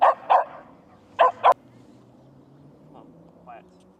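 A reactive dog out on a walk gives four sharp barks in two quick pairs, close and loud, followed by a couple of fainter yips against quiet outdoor background.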